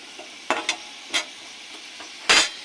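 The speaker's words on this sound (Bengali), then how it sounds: "এবার দিয়ে দেবো তেজপাতা আর জিরে ফোড়ন" Bay leaf and cumin seeds dropped into hot oil for a dal tempering, heard as a quiet sizzle broken by several sharp spatters and stirring scrapes, the last burst the loudest, with no talking.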